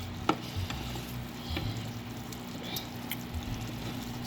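Tuna and egg stew sizzling steadily in a pan, a soft continuous hiss with a low hum beneath and a few light clicks of stirring, fairly quiet and with no voices.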